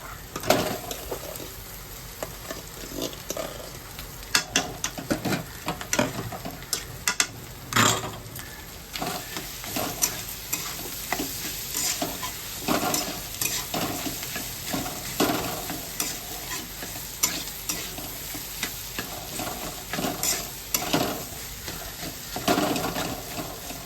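Potatoes fry in a pan while being stirred, a bright crackling sizzle broken by frequent scraping and clattering strokes of a utensil against the pan, close and busy throughout.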